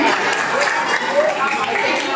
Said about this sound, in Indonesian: tepuk tangan dong buat ekuenzim